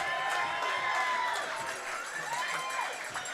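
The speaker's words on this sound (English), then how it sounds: "The raucous crowd here at Hastings showing him all the love." A raucous baseball crowd at Hastings cheers batter Josh Garton as he steps up in an Intercounty Baseball League semifinal game, Welland Jackfish at Guelph Royals, with steady crowd noise and a commentator talking over it.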